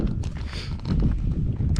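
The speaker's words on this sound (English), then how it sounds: "you can probably hear the wind. Yeah, Pretty windy, rainy tonight." Steady gusting wind roars and rustles close to the microphone with no clear talking, just a constant broadband whoosh.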